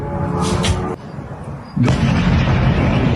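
A loud, heavy boom from a drone strike on an oil refinery in Krasnodar Krai cuts through steady background rumble, followed by a sustained roaring noise that stays loud after the blast.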